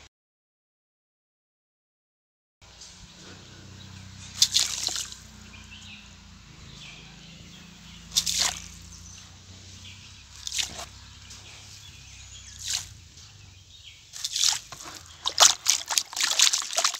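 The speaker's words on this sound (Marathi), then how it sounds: "आता ही चाळलेली रेती मी टाकतो आहे पाण्यामध्ये." Sieved sand is poured into a container of clean water, giving soft trickling and splashing pours in several separate bursts, the last ones denser, over a quiet background after an initial silence.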